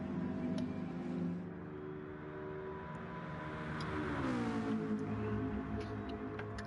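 Racing car engine howling close by as it accelerates across the start line at the beginning of a lap, harmonics climbing steadily in pitch with a loud, continuous drone.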